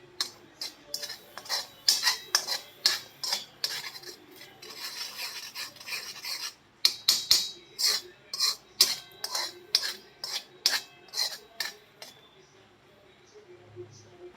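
A small spoon scrapes and clinks against a bowl while chaat masala is stirred into ripe mango pulp, in quick rhythmic strokes with a short pause midway, close and crisp, with a voice talking over it.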